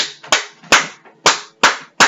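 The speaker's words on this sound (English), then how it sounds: "A good strong clap." Single strong hand claps used to clear energy during a meditation, five sharp cracks at uneven intervals about half a second apart, close and loud, each decaying quickly into quiet.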